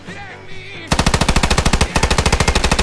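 Rapid, evenly spaced bursts of machine gun fire in the World War II shooter Post Scriptum, loud and close, starting suddenly after a quieter stretch with faint voices and continuing as a steady hammering stream with a brief pause.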